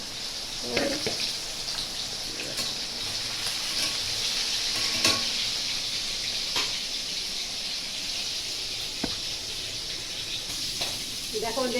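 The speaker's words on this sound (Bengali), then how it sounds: "মাছটা ভাজা হচ্ছে" Rohu fish frying in a home kitchen pan, a steady close sizzle broken by scattered clinks and scrapes from stirring.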